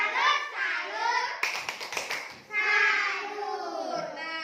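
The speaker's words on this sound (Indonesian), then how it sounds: "kasih tepuk salut" Children in an Indonesian classroom do the tepuk salut clapping routine, a brief burst of rhythmic claps set between stretches of young voices chanting and speaking.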